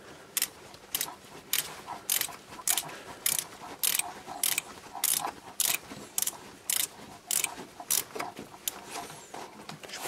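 Ratchet with a 13mm socket loosening a screw on a 2007 Golf 5 Plus 1.9 TDI, producing sharp, regular clicks in a steady back-and-forth rhythm, close and distinct over quiet workshop background.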